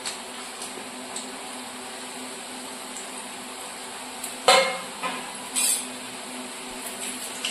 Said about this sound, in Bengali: এগুলোকে লালচে করে ভেজে নিতে হবে।